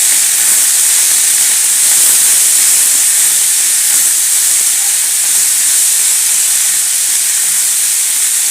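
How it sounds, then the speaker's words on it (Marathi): Hot oil sizzles loudly and continuously as potato fries, a bright, even hiss that holds steady from start to finish with no talking. "आणि ते या तेलावरती परतून घेणार आहे"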